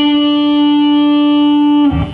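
An electric guitar plays one long, bright sustained note in a blues lick, ringing steadily close up with effects before a brief scrape as it cuts off. No one speaks.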